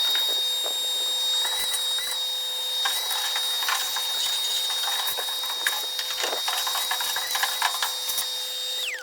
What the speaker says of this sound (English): let's get this vacuumed out.